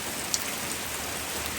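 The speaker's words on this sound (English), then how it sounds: "and it is pouring, y'all." Heavy rain pours down steadily in a dense, even hiss on a summer afternoon outside a garden, close and loud, with no pauses and no voices.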